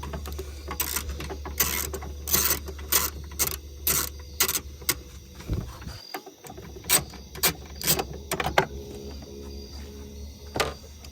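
A wrench loosens a 10 mm bolt on an Acura TL air intake, with a series of sharp, quick ratcheting clicks in uneven bursts, close up and without speech.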